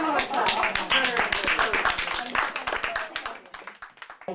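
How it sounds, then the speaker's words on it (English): An audience applauds after a performance in a community theatre piece built from memories. Dense, steady clapping from many hands fills the clip and thins slightly toward the end, with no talking. "Give her a clap."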